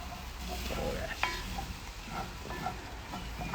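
Food being stirred in a frying pan while cooking Italian dishes, a soft scraping and sizzling close by, with a few light clinks from the pan, steady and low in level.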